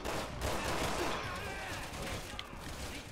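Gunfire in Resident Evil 6 during a Chris and Piers chapter rattles in dense, continuous bursts amid a loud, chaotic combat din, with a brief faint voice underneath.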